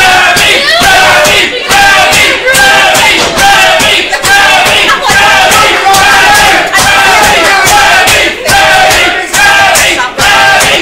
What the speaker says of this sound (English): Crowd here clearly behind Remy LeVay